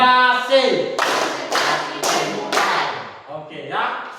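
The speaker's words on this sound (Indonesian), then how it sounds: "kita coba tepuk konsentrasi di penghujung" A school class does a concentration clapping game: a spoken cue, then four loud, evenly spaced group claps about half a second apart, followed by more voices.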